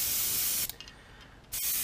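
An airbrush sprays paint onto a topwater spook fishing lure, heard as two close, loud bursts of airy hiss separated by a short pause, with the second burst starting just before the end.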